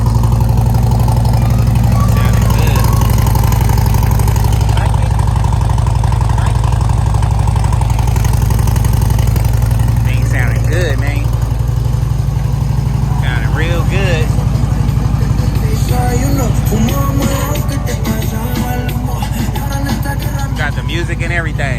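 2009 Harley motorcycle starting cold and idling, a loud, deep, throbbing exhaust rumble that runs the whole time under someone talking nearby.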